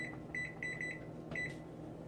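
An oven timer being set gives a short run of high electronic beeps in quick, uneven bursts, faint over a low steady hum.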